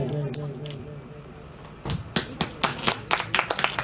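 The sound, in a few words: applause at a religious gathering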